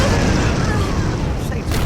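A video game explosion booms as a bridge collapses toward a fortress, a dense, loud, low rumble that fills the short stretch without a break.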